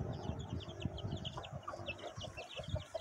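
A Carijó rooster and hen squabble during mating, with quick repeated clucks and squawks close by over faint background bird chatter.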